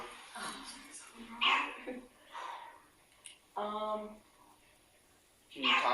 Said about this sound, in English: That was a dog, right? It's the dog.